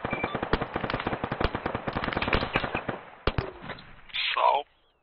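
Rapid gunfire during an army infantry training exercise, dense bursts of shots cracking in quick succession, some near and loud, thinning into scattered single shots before a brief radio-like voice cuts in.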